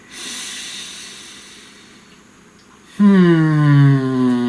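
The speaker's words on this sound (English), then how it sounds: "Breathe." A slow, deep breath drawn close and loud, a soft airy inhale easing off before a stronger, fuller breath follows.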